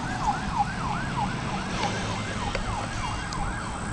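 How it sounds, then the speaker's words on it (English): An ambulance siren wails in a steady rising-and-falling cycle as the vehicle comes down a hill, clear and fairly close over the hum of the surroundings, with no one talking. "Here comes the ambulance."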